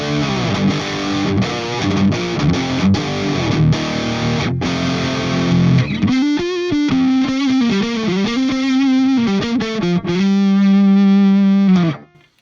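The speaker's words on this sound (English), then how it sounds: "like heavy crunch distortion." A Diezel VH4 amp turned up to heavy crunch distortion plays electric guitar, thick saturated chords churning first, then sustained distorted notes ringing out loud and close with no talking, before cutting off at the end.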